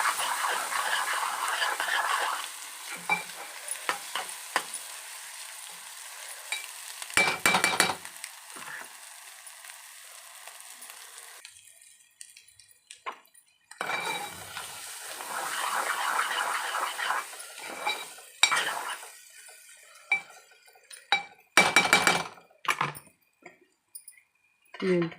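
Egg bhurji frying in a pan as it is stirred: a soft sizzle comes and goes, broken by clinks and scrapes of a spoon against the pan, with quiet gaps between the bursts of stirring.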